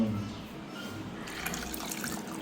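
Water pours steadily into a container with a soft, continuous trickle that brightens slightly as it fills, with voices faintly in the background.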